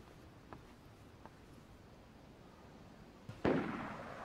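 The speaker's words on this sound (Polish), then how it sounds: "tutaj są wszędzie strzały" Gunfire in the DayZ video game, heard as a few faint distant pops at first, then a louder sharp shot with a trailing rumble near the end, with no talk over it.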